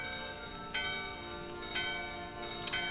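A bell chimes three times in Final Fantasy IX, evenly spaced bright rings over a sustained musical game soundtrack, with no talking.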